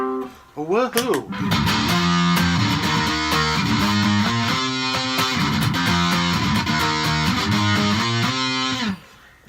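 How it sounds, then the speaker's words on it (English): A heavily fuzzed electric guitar, played through a fuzz pedal, plays a thick, buzzing riff with sustained saturated chords, loud and continuous after a brief bent-note intro. "That amp almost blowing up crazy distortion sound, a lot of that comes from fuzz pedals."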